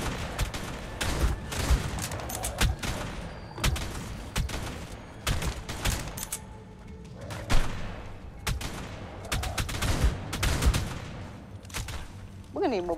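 Near-continuous gunfire in the survival game ARK, repeated sharp shots in irregular bursts over thirteen seconds, with players talking over the shooting.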